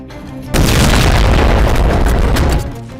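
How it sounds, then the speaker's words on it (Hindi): An Israeli air strike destroying a building sends out a sudden, very loud boom that roars on for about two seconds before dying away. "ये इजरायली एयर स्ट्राइक का वीडियो है, जिसमें आईडीएफ ने एक इमारत को जमींदोज कर दिया।"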